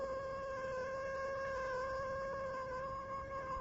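A cat sound effect for an old-time radio mystery drama, one long drawn-out wailing meow sustained for several seconds, fairly faint and alone.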